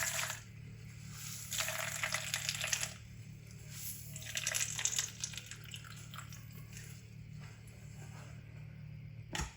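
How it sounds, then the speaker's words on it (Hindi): Rinse water is poured off curdled, spoiled milk in a home kitchen, coming in a few short splashing bursts separated by quieter dripping against a low background hum, with no talking. "अब इसका हम पानी फिर निकाल देंगे।"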